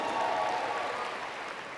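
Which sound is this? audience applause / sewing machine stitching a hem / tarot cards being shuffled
audience applause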